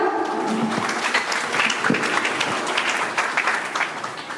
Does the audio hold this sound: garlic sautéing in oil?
no